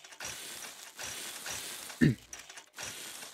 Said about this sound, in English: And then you weld it together.